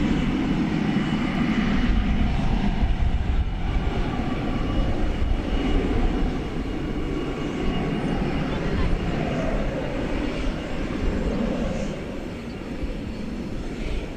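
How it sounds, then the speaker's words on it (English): An American Airlines Airbus A321 arriving from Punta Cana at DFW Airport at night: a steady, broad jet roar rumbling on throughout, with a voice talking over it. "Here comes American Flight 1394,"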